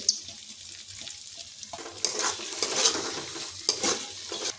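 Green peas, chopped green chilli and spices fry in oil for a soya pulao, with a continuous sizzle under repeated scraping stirs that grow louder toward the end.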